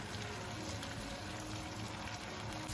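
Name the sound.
vegetables and star anise frying slowly in old oil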